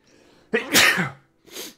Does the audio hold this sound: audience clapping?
no